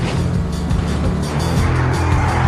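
A steady, loud car engine in the video game Driv3r drones with low rumbling tones that rise and shift slightly, like a vehicle accelerating.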